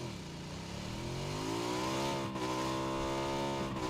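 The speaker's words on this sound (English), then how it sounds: "Oh, motorcycle. That's what I need to get on." A motorcycle engine revs in an online shooter game, its pitch climbing steadily and then holding at a high whine, loud and close with no one talking.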